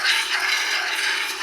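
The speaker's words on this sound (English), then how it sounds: "got to go to our 325 mesh diamond resin bond sanding disc" Stone being smoothed with a 325 mesh diamond resin bond sanding disc, a steady, close, hissing abrasive whir with slight wavering as the disc moves across the surface.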